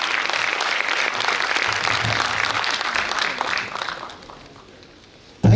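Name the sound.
applause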